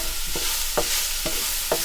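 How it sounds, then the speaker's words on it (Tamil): Washed, chopped sprouts sautéing in a pan, with four evenly spaced scrapes of a stirring spoon over a steady, close sizzle; no voices. "இப்போ அதில் போட போகிறேன். எல்லாம் போட்டு வதக்கணும்."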